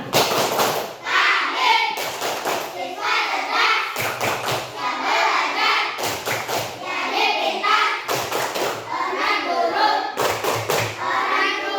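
A group of fourth-grade children clap in a loud, repeating rhythmic pattern of quick claps and thumps in a classroom, close by, chanting along as they go.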